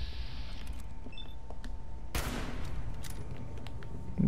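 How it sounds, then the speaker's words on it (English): Assault rifle gunfire in Fallout 4, a sustained dense stretch of shots with a sharp, louder burst about halfway through, steady and fairly close over a low rumble. "This is assault rifle."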